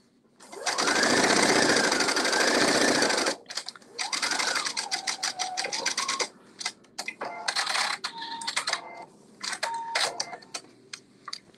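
A sewing machine runs a kimono shoulder seam, starting with a long steady whirring burst, then shorter stop-start runs of rapid needle clatter with small whines and clicks between, close and clear, no talking.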